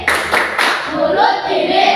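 Children give brief thank-you claps in a classroom, a few rhythmic claps in quick succession over about two seconds, with children's voices chanting over them.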